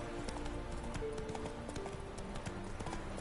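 Roach the horse galloping in The Witcher 3 video game, rapid rhythmic hoofbeats pounding steadily over a busy game soundscape, close and continuous for the whole stretch.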